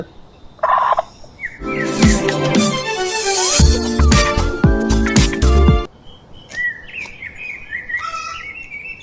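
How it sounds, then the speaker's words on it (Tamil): A country chicken calls loudly up close, a run of harsh rising squawks and gobbling cackles, then softer intermittent chirping clucks trailing off. "இதான் நம்மளோட கோழி வளர்த்த கோழி"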